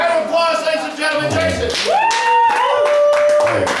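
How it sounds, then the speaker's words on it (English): A live audience at an evening cabaret-style variety show claps loudly, with whooping, cheering voices rising and sliding over the clapping throughout. "Round of applause"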